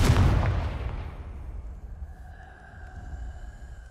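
A Confringo spell blast in the Hogwarts Legacy video game, a loud booming explosion at the start that rolls off into a fading rumble with a faint tonal hum beneath.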